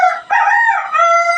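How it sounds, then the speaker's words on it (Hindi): A rooster crows once, loud and close, in a single drawn-out cock-a-doodle-doo with a brief break near the start, heard on its own. "ये मुर्गा को भी अभी कुकुरों को बोलना था क्या"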